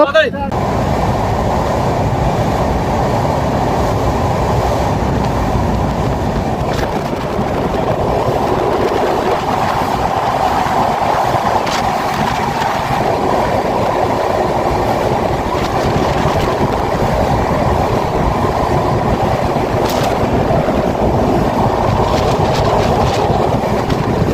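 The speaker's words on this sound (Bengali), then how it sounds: "হুইসেল মেরে দিছে, ছেড়ে দিবে ট্রেন, ছেড়ে দিছে" Train pulling out near Mawa station by the Padma bridge, a steady loud rumble of rolling wagons with faint clickety-clack running throughout, continuous and close from start to finish.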